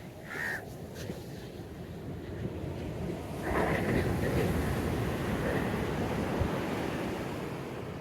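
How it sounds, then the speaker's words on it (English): Ocean waves wash steadily onto a beach in Alleppey, a broad continuous surf roar with a louder swell midway, while crows caw intermittently in the background and wind buffets the microphone. "So just enjoy this view of the beach."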